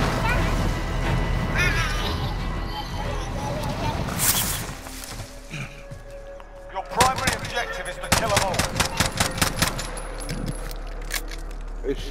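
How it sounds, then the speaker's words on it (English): Call of Duty Warzone match with rapid bursts of assault-rifle gunfire, sharp close shots clustering in the second half over a busy game soundscape, while people talk and shout throughout. "Shooting at them."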